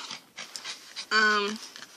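A dog pants loudly and rapidly up close, heavy breathing that rises over quieter background voices.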